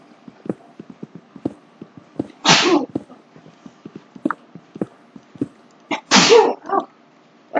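Two loud, sharp human sneezes a few seconds apart, heard close up over a backdrop of quiet rhythmic clicks and taps from a Minecraft game session.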